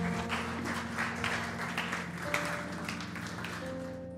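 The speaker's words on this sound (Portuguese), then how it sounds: "Vamos aplaudir o Senhor por isso?" A church congregation claps in praise, the applause fairly soft and steady and mixed with a sustained organ or keyboard tone and some murmuring in the background.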